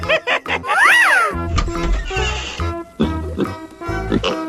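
A cartoonish pig oinks in a 3D animal sliding game, with short grunts mixed among playful synthesized squeals and game sound effects, fairly loud and close.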